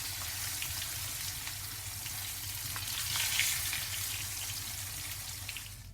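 Sea bream, turned over in a hot pan for a chermoula dish, frying with a dense, continuous sizzle and a faint crackle throughout, steady and fairly close.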